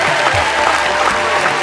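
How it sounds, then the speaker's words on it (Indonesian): An audience at a Madurese comedy talent show applauds a contestant, a steady, full clapping sound at a constant level throughout, with no voices over it. "Tepuk tangan sekali lagi untuk SD"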